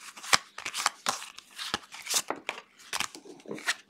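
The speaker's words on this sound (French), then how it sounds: "on va tirer une de ces 5 cartes" Cards are handled and shuffled at close range as one of five cards is drawn, giving a quick series of soft, papery flicks and slides with no talking.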